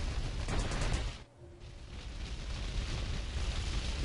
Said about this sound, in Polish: Wybuch trzech ładunków.